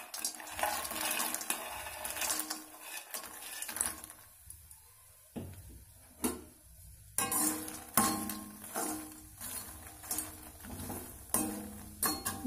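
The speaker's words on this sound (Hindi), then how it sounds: "सबसे पहले हम मखानों को रोस्ट कर लेते हैं।" Fox nuts roast in ghee in a hot kadhai, a spoon stirring and scraping in repeated close strokes while the pan hisses and crackles softly between them.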